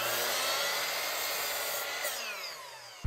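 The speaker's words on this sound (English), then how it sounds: "So I've got my compound miter saw here, and I'm going to use that to cut all of my 2x4s." A compound miter saw cuts through a 2x4 for a picket fence, a loud continuous whining buzz held for about three seconds before spinning down, with a sharp knock right at the end.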